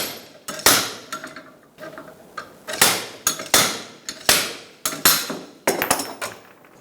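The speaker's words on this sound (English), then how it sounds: "You're going to want to use a slide hammer on this" A slide hammer works loose a CV joint bearing assembly on a 2007-2017 Ford Expedition, giving sharp metallic impacts, about a dozen irregularly spaced blows, each with a short ringing decay.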